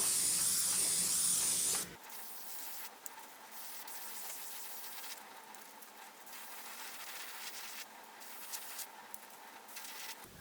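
An airbrush sprays opaque white primer onto a glide bait: a loud, close hiss for about two seconds, then a softer, steady spray hiss that carries on alone with slight flutters.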